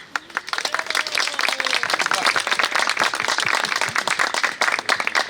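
Audience at a picture-book promotion in Skopje breaking into dense, sustained applause, many hands clapping quickly and evenly from fairly close, with a few voices faintly audible underneath.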